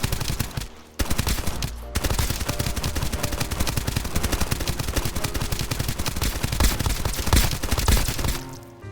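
An MP5 submachine gun firing in a video game: after a brief burst and short pause, a long, loud, rapid stream of automatic shots keeps going for several seconds before cutting off.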